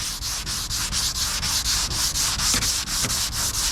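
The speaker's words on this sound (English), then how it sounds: "you want to sand backwards and forwards, but twist at the same time" Hand sanding a car body panel along a masked body line, steady back-and-forth rasping strokes with a rhythmic swish roughly every third of a second, close and continuous with no talk.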